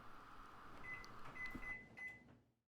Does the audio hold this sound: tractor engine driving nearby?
no